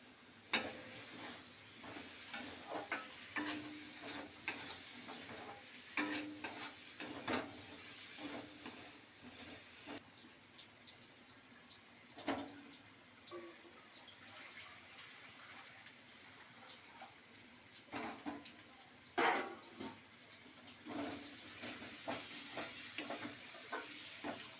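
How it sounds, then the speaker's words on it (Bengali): Potatoes tipped into a fried spice paste for Bengali egg curry, a soft steady sizzle and hiss under scattered scrapes and knocks of the stirring spoon against the pot, fairly faint and continuous, no talking. "এবার মশলাটা কষা হয়ে গেছে, এবার আলুগুলো দিয়ে দিতে হবে।"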